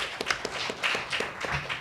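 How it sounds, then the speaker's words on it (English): Audience clapping for community violence-prevention workers at a book talk, a sparse, uneven patter of hand claps from a modest crowd, moderately close, with no swell into loud applause. "they deserve a big round of applause"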